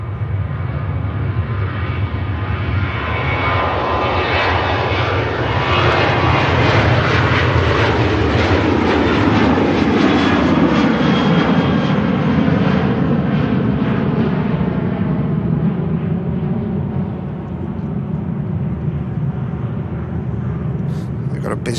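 A Ryanair airliner departs Manchester Airport, its engines roaring loud and steady for over twenty seconds, swelling and then easing slightly as it climbs away, with a voice talking over it.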